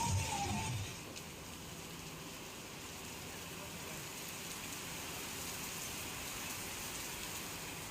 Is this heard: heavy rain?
yes